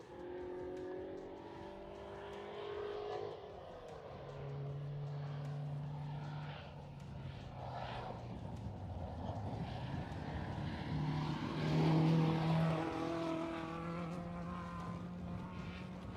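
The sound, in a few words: rally cars passing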